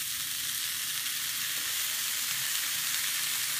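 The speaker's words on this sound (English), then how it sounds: "It's going right on the griddle." Italian roast beef and salami sizzling on a flat burger griddle, a dense, even frying hiss held at close range throughout, with no voices over it.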